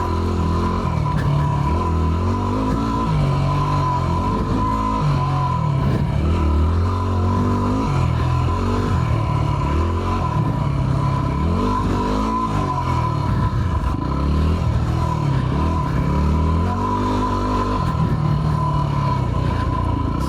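A Yamaha WR250R dirt bike engine drones steadily and loud on an MX trail, its pitch rising and falling as the throttle shifts over rough ground, with no voices heard.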